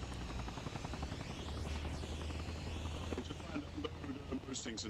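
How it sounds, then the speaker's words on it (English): A helicopter in the military game ARMA Reforger keeps up a steady, loud rotor thrum, close and continuous, with a low engine drone underneath and people talking over it. "Oh, we're keeping the helicopter."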